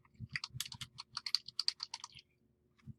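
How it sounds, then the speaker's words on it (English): Rapid bursts of keystrokes on a computer keyboard as a URL is typed, a quick run of crisp clicks for about two seconds, then a pause and one last tap. "Type your URL"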